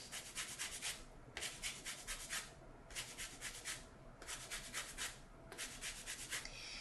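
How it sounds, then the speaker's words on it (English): An orange rubbed against a zester in quick rhythmic bursts of fine scraping strokes, close and faint, with short pauses between runs. "when you're zesting any citrus that you only zest the skin up to right here"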